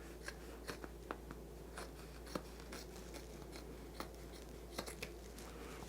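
Scissors cutting across a knit top just below a button, a run of quiet, irregular snips and crisp clicks close to the microphone over a faint steady hum.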